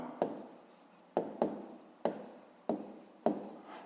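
A pen or pencil writes an answer for a fifth-grade math exercise, giving repeated short scratching strokes in quick bursts, close and distinct, with no voices.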